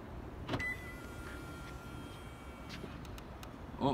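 The electric windows of a 2018 Toyota Land Cruiser ZX hum faintly as they close while the car locks, and a few soft clicks follow near the end.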